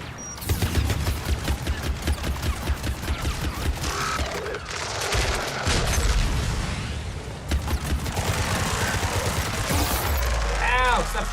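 Rapid gunfire bursts from a sci-fi shooter video game, dense and continuous with clanking mechanical effects, steady throughout at high level with no clear pauses.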